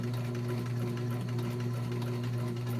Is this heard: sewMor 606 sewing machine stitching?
yes